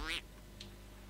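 A single short, bright duck quack from the video game Vindictus, sharp and close at the very start, followed by faint low game ambience and a small blip.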